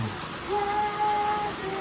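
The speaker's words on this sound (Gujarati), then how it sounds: "વરસાદ જાજો આવે છે" Steady monsoon rain in Gariadhar, Bhavnagar, patters and hisses nearby, with a faint thin tone sounding briefly in the middle.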